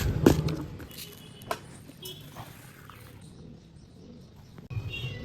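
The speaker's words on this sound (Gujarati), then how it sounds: "ત્યાં રોજ પારી ઉપર રોજ એટલા પોપટ, ખિસકોલા, ચકલા" Faint bird calls and soft cooing, from parrots and sparrows, drift through a quiet outdoor background, scattered and distant rather than continuous.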